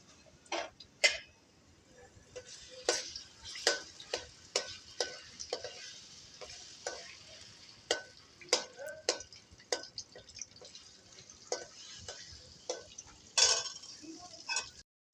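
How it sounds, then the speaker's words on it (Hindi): Ginger garlic paste hits hot cooking oil in a pan for dhaba-style kaleji, giving a soft steady sizzle broken by repeated sharp scraping stirs of a spoon against the metal. "ऑयल हमारा गर्म हो गया, इसमें हम डालेंगे अदरक लहसुन का पेस्ट"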